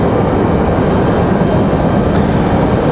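A Republic Airways passenger jet at Raleigh-Durham airport roars loud and steady, a broad continuous engine rumble with no gaps, close and dominant throughout.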